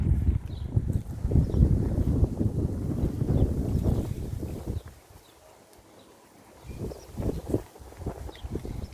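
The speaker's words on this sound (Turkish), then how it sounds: "Rüzgar da esiyor in" Steady wind rumbles and buffets against the microphone, heavy for several seconds, easing briefly, then gusting again.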